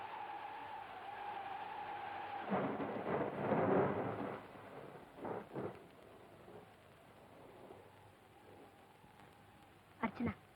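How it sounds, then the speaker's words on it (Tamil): A storm with gusting wind and rain, filling the space with a steady, faint hiss that swells into a louder rushing burst before settling back, with a couple of sharp knocks near the end. "வெளியே காத்து அதிகமா இருக்கு, மழையும் பெய்யுது"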